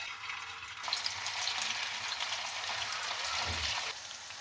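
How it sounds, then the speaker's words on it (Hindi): Marinated chicken dropped into hot oil in a frying pan, a soft hiss that swells into a dense, crackling sizzle holding steady for several seconds, close and without voices. "जब ऑयल हमारा हल्का सा गर्म हो तो इसमें जो चिकन मैरिनेट किया वो इसमें डाल दें।"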